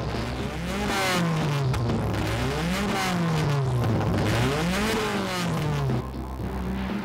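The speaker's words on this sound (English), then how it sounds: "machine that is actually running in the All Japan Gymkhana Tournament, an Impreza from Advan Garage Kameda" Engine of a modified, lightened Subaru Impreza gymkhana car with a 100 mm widened body, built for the All Japan Gymkhana Tournament, revving loudly and continuously as it rises and falls through the gears, with a faint squeal from the tyres.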